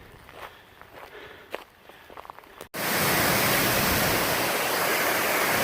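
Long Creek Falls, a sizable waterfall just off the Appalachian Trail, roars as a loud, steady broadband rush that abruptly fills the scene after a few seconds of quieter trail sounds and footsteps.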